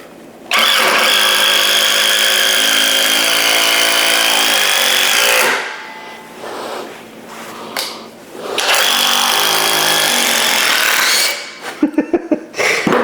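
A Skil 12V impact driver drives a screw in two long bursts of loud, rapid hammering whine, separated by a pause with brief taps, then a few short trigger pulses at the end.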